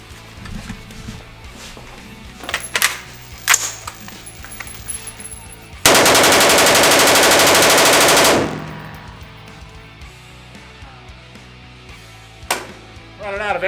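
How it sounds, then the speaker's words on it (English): A Primary Weapons Systems rifle, with a recently replaced buffer tube, fires a rapid full magazine dump outdoors: a loud, continuous burst of about two and a half seconds following a few scattered shots and handling sounds. "And we're going to do another mag dump."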